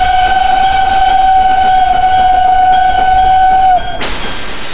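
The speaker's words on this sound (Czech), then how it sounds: "Oslavíme narozeniny vlaky NET mimořádnou jízdou parním vlakem." A special birthday steam train run passes close by, a loud sustained whistle blast sounding over steady rolling rail noise, then the whistle cuts off abruptly.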